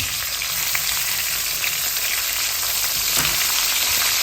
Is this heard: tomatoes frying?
yes